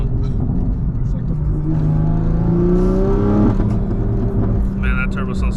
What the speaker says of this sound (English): that turbo sounds so good